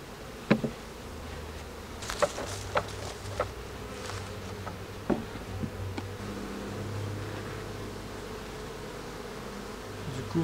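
Honeybees buzzing around an open hive at a Quebec apiary, a steady close drone of many insects with occasional louder passes of single bees near the listener and faint handling noises.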